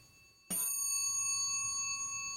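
A single bright metallic strike from a clock movement's chime, sharp at onset and then ringing on with sustained, slowly fading tones, heard close up and alone.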